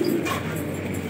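A prized Gola pigeon with black and red markings coos softly and steadily, a low rolling call held close and fairly quiet throughout.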